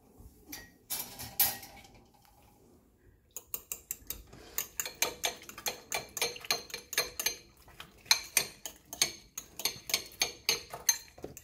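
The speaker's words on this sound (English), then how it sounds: "Now I'm gonna stir it." Eggs being stirred in a bowl by a child, a steady rhythmic series of clinking taps of utensil against the bowl, fairly close and alone.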